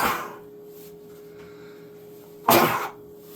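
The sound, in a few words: sneeze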